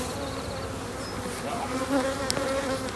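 Honey bees buzz around beehives outdoors during a spring honey-super harvest, a dense steady droning hum with individual bees passing close by, loud and continuous.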